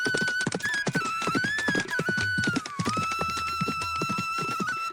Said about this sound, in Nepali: ऊ घोडामाथि चढ्यो र जङ्गलभित्र ओझेल भयो